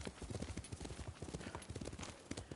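Horse hooves clip-clop at a steady trotting rhythm while riding through an outdoor area in the video game Ghost of Tsushima, quiet and continuous with a faint voice in the background.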